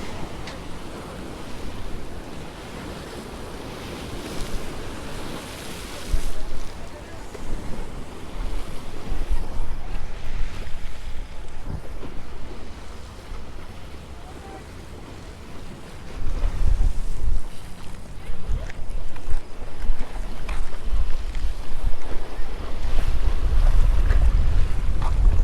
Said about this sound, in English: But we're getting some big old waves in.